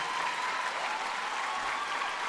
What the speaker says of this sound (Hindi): बिना मांगे तालियां बजती जा रही हैं